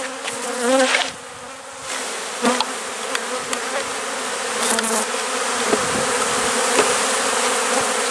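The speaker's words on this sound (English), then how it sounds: "all these bees, or most of these bees, are nurse bees" Honeybees, mostly nurse bees from a brood frame, buzz in a steady, dense swarm drone while being shaken into a split box, with a few sharp knocks and bumps from the frame and box.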